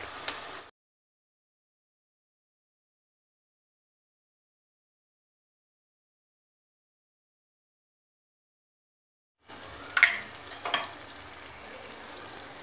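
Eggs frying in a pan with masala and green chillies, a brief burst of sizzling and stirring at the start and again near the end, separated by a long stretch of silence.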